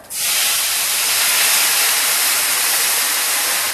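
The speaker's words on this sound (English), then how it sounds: "now we're going to kind of steam this a little bit." A loud, steady hiss of water steaming and sizzling in a hot pan starts abruptly and continues evenly throughout.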